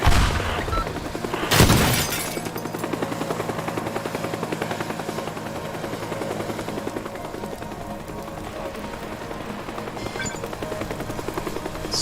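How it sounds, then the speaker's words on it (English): Attack helicopters in the video game Teardown keep up a steady rotor thrum throughout, opening with a sharp loud crash or explosion and followed by faint scattered impacts. "this the challenge mode with the attack helicopters would be a good one to stream"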